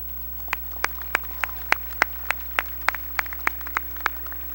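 A small number of separate hand claps at a high school graduation commencement ceremony, sharp and fairly evenly spaced over a low steady hum.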